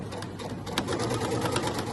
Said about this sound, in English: Now I'm going to sew right past the edge of the pocket.